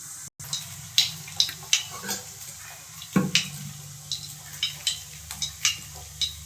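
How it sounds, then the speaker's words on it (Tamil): Mustard seeds splutter and pop in hot oil while tempering for an eggplant fry, giving sharp, scattered crackles at an irregular rhythm over a soft sizzling hiss. "கடுகு நல்லா பொரிஞ்சிருச்சு."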